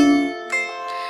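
A lyre plays an arpeggiated chord, three plucked notes entering one after another and each ringing on over the last, close, clear and unaccompanied.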